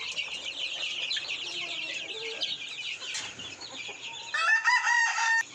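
Desi village chickens cluck and chatter steadily on a small free-range poultry farm in summer, and a rooster lets out a loud, close crow near the end.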